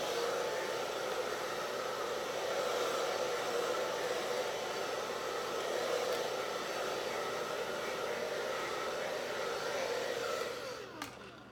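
A hair dryer blowing heat on hair set in curlers, a steady close whooshing roar that runs unbroken and then clicks off at the end, with no talk.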